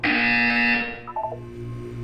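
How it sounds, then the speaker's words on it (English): A loud buzzer sounds in the video game Portal 2: one sustained harsh electronic tone lasting under a second, then a short stuttering tail that fades into a low hum, with no talk. "When you hear the buzzer, look down at the floor."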